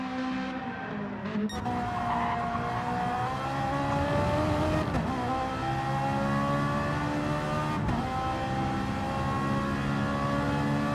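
Race cars in a racing game at Mount Panorama, engines revving and accelerating steadily with rising and falling pitch, a brief tire squeal, continuous and loud throughout.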